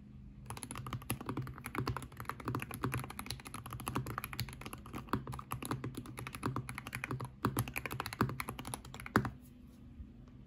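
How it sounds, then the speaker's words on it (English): Fast, continuous typing on a heavily modded Wooting 60HE mechanical keyboard, with soft, muted key clacks in a busy rhythm and one louder thock near the end. "take a listen to what a very heavily modded Wooting 60HE can sound like"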